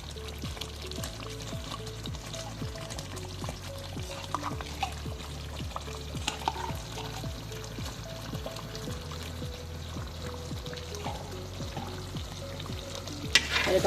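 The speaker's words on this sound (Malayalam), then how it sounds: "ഇനി ഇത് ഇളക്കിയിട്ട് നന്നായിട്ട് മിക്സ് ചെയ്യുക ആദ്യം." Ghee, rice and jaggery cooking in a pan for aravana payasam, a steady close sizzle under a regular rhythm of stirring scrapes, with occasional louder clinks.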